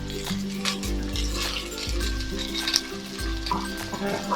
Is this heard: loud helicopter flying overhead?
no